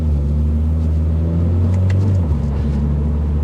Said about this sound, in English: you're not going to get tired of that exhaust note.